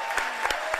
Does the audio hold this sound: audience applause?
yes